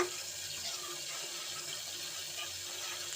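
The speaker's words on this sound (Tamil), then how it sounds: "குழம்புக்கு தேவையான அளவு தண்ணி சேர்த்துக்கலாம்" Water poured steadily into a tamarind-based eggplant kara kuzhambu curry in a home kitchen, a continuous close rushing splash with no talking.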